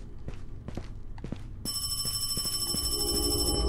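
Telephone bell rings in the horror game Paranormal HK, a sustained ringing that starts partway in over a few soft footstep-like thumps, fairly close and clear.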